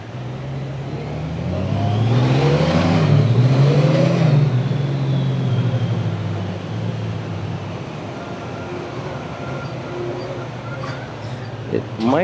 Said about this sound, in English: There is traffic on here already